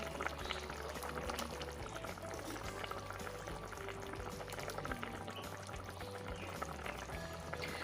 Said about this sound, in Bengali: এখন আমি এগুলো ঝোলের মধ্যে দিয়ে দেব।